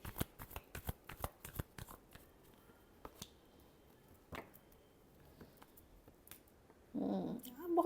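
Tarot cards shuffled by hand in a quick burst of crisp riffling snaps that fade into softer, scattered card flicks, ending with a brief muffled rustle.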